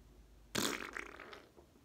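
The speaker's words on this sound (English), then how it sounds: "Farting." A single loud fart bursts out suddenly and then trails off in a sputtering, rumbling release lasting over a second, close to the microphone, with no talking.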